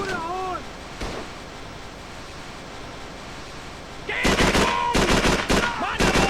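Default weapons fire in the Call of Duty 3 video game as bursts of loud, rapid gunfire in the latter part, after quieter battlefield ambience with a shouted voice and an earlier single shot.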